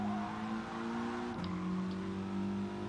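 Race cars in GT Sport, one a Subaru WRX, battling for position; a steady droning engine hum with a brief pitch dip midway, like a gear change, sustained and moderately quiet with no talking.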